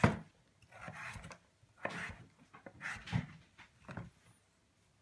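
Knife rocking through pumpkin to cut the skin away in a kitchen: a series of close scraping, rasping cuts and soft thuds on the board, coming in uneven strokes with brief pauses between them.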